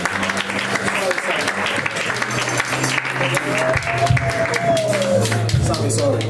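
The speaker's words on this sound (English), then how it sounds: "Let's clap for him." A church congregation claps together in a brisk, continuous round of applause, with a voice talking over it and some background music humming beneath the clapping.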